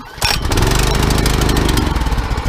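A new, cold Predator engine on a rototiller catches on a single pull and settles into a loud, steady, close-up running chug.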